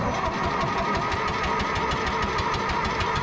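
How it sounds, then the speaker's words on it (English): Engine of a John Deere 1010 track loader cranking over continuously, a loud, rapid rhythmic churning that runs unbroken without catching. "It took quite a bit of cranking to get this thing pumping fuel."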